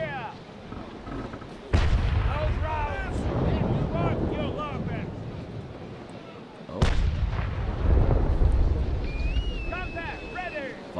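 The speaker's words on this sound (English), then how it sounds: "Good broadside there." Two heavy cannon broadsides from the frigate HMS Surprise in the naval combat game Naval Action, each a sudden booming blast followed by rolling rumble, with wind noise and someone talking over the gunfire.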